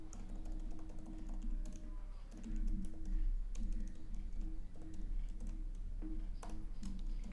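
Keys clack steadily on a computer keyboard as a heading is typed into a markdown cell of a Python notebook. The clicks are fairly quiet, irregular and continuous, over a low steady hum, with no talking.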